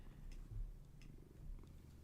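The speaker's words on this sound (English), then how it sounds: "She's purring a lot." A cat purrs softly and continuously, a low rumbling drone at very quiet level with a few faint clicks over it.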